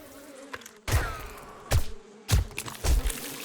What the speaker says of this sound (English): Bees coming from somewhere.